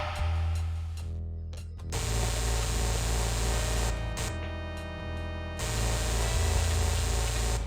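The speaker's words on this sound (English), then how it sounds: "The locking mechanism dissolves, and we can get in." In the game Space Quest IV, a lock dissolves with a loud, harsh hissing fizz like spraying static, cutting out in brief gaps and then resuming over a low electronic hum.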